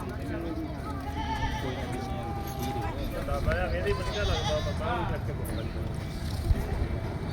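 Goat bleats, several wavering calls in the middle stretch, mixed with people talking and a busy outdoor background at the Harike Kalan goat market.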